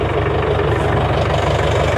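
A Branson B414 tractor engine idles with a low, steady rumble, a continuous throbbing mechanical drone with no voices.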